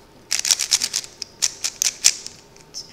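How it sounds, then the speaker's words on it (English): A YJ 3x3 puzzle cube is turned quickly by hand, giving a close, bright run of sharp plastic clicks in fast irregular bursts with short pauses, and no talking. "it's actually really clicky"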